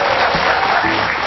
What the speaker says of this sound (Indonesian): Langsung aja ya kita kasih tepuk coba